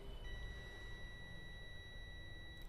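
A multimeter on continuity test against a mobile phone speaker emits a faint, steady high-pitched beep that holds for a couple of seconds over low background hiss, with no talking.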